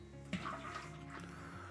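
Liquid beer extract for a Great Northern homebrew flows steadily into a brewing pot set under a tripod, a soft gurgling pour with a brief splash near the start, fairly quiet and heard alone.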